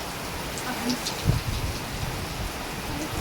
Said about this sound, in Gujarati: આ દ્રશ્ય ઉપરથી લાગતું છે કે કેટલો વરસાદ પડી રહ્યો છે